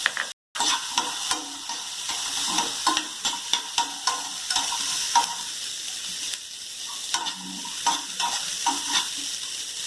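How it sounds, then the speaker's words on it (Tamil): Chopped onion, ginger and garlic sizzle steadily in hot oil for a Chettinad chicken chukka, with repeated stirring scrapes of a spoon against the pan over the continuous frying hiss and no voices. "எண்ணெய் காய்ச்சதும் நம்ம நறுக்கி வச்சிருந்த வெங்காயம், இஞ்சி, பூண்டு எல்லாத்தையும் அதிலே சேர்த்து வதக்கி எடுத்துக்கலாம்"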